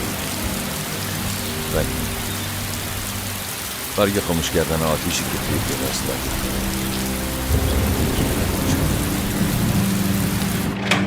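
Steady rain pours throughout with a faint thunder-like rumble, while several people speak over it in a dramatized period scene.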